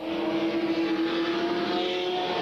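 Super stock race cars roar around an oval track in a 1993 race, engines droning loud and steady in a dense pack with a sustained high whine, no talk.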